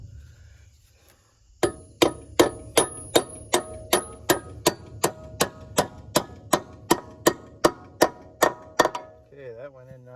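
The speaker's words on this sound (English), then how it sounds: "So let's put it in the hole. Okay, let's just tap it here." Hammer tapping a hard bolt with washers through a hole in a farm hay wagon, about sixteen sharp metallic strikes in a steady rhythm, close and loud, with a brief spoken word before.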